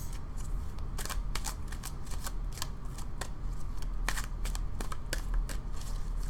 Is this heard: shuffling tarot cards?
yes